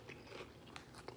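A quiet, close bite into a crunchy salty snack produces a couple of sharp crackling crunches in quick succession over faint background.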